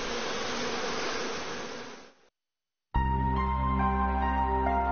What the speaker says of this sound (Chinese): 保护区内的蜜蜂属于中华蜜蜂，俗称土蜂